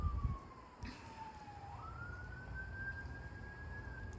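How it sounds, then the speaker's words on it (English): Emergency vehicle siren wailing far off in a quiet outdoor setting, its pitch sliding slowly down and then rising, faint and steady throughout. "siren."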